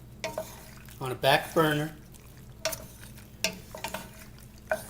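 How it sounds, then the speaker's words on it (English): Pasta being stirred with a little olive oil in a hot pot, a few soft scraping stirs and clinks around a person speaking. "I'm just going to add a little olive oil to it and stir it around to make sure it doesn't stick together"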